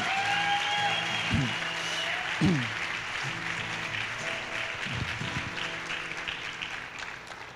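A church congregation claps together for a stretch of several seconds, a broad steady wash of applause with a few louder bursts, heard from within the hall.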